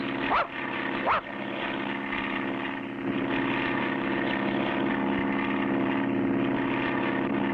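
A bush pilot's propeller airplane flying, a steady droning engine hum with a constant tone, fairly close and continuous, with a couple of brief barks early on.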